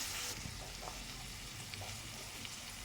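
Turmeric being stirred into a frying pan before mutton goes in, a soft continuous sizzle with faint scraping stir strokes, quiet and close, with no talking.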